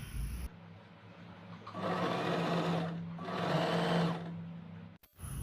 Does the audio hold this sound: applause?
no